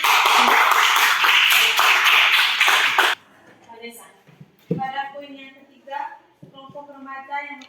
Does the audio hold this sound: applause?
yes